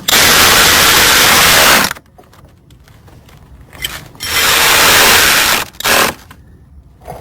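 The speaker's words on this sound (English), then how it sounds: "So after sliding fan back in place, tighten up the two 10 millimeter bolts." Ratchet wrench tightening the two 10 mm bolts on a Chrysler 200 radiator fan during radiator replacement: two loud bursts of rapid, close clicking, nearly two seconds and then over a second, a third short burst, with quiet gaps between.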